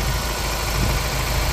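A 2022 Ford Wildtrak pickup's 2.0-litre twin-turbo engine idles with the hood open, a loud, steady, even rumble with constant vibration and no voices.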